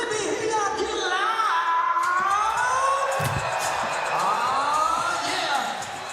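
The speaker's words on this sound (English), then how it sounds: "How y'all feeling Amsterdam? Let me hear y'all get loud." A crowd at the Amsterdam 3x3 basketball World Tour finals cheers and whoops loudly and continuously. An amplified announcer's voice rides on top, and the roar eases off near the end.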